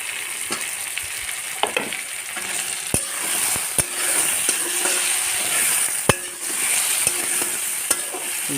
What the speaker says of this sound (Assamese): ইয়াৰ পিছত পিঁয়াজখিনি বহাই দিব।